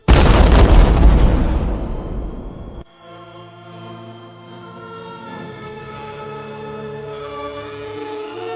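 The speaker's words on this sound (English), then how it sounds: "the gas ignited and the house exploded around him." A loud gas explosion bursts at once in an audiobook narration, a heavy booming blast that rumbles for about three seconds, then drops abruptly into a low, sustained droning tone with no speech.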